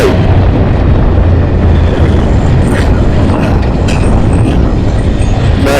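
Riding a 2009 Ducati Monster 1100S motorcycle: a steady, loud low engine drone with heavy wind rumble running continuously, no voices.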